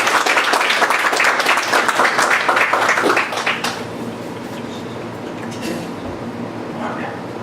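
A church congregation applauds a pastor coming forward, giving dense, loud clapping for about three and a half seconds that then fades into quieter room noise and murmuring.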